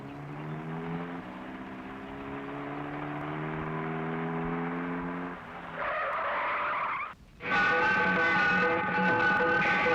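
A car skids and screeches, tires squealing loudly and close over a droning engine, with the pitch shifting midway, a brief cut, then a harsher, louder squeal to a stop.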